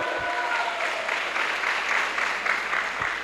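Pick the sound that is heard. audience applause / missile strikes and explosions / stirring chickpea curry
audience applause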